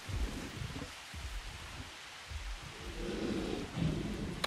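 Rain falling in the video game Jurassic World Evolution, a soft steady patter with low rumbling underneath, faint and continuous without talk.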